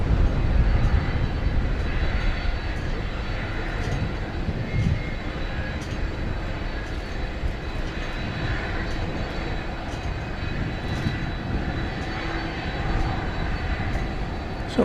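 A Fiji Airways jet, Flight 891, takes off from runway 18 right at DFW Airport, its engines a steady, fairly distant broadband roar that holds without pause throughout.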